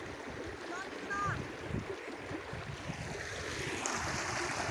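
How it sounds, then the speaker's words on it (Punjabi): Fast-flowing water rushes steadily through an irrigation channel outdoors, a continuous broadband wash with some wind buffeting the microphone throughout. "ਵੋ ਪਾਣੀ ਦੇਖ ਕਿੰਨੀ ਸਪੀਡ ਨਾਲ ਜਾ ਰਿਹਾ"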